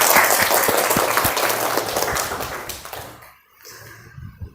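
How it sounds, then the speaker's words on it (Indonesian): A classroom of students applauds together, loud dense clapping for about three seconds that thins out and stops, followed by a few scattered claps and light movement. "Tepuk tangan untuk kita semua."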